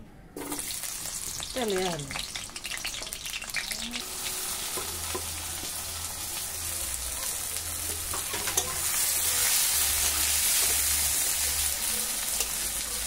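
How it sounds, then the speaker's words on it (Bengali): Pumpkin pieces frying in a pan, a continuous loud sizzle with scraping and stirring throughout, with a voice briefly heard near the start and a low hum underneath. "মিষ্টি কুমড়া দেখো ভাজা হয়ে গেছে।"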